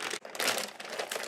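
Soft, close crinkling of a plastic zip bag being folded, quiet and continuous for about a second.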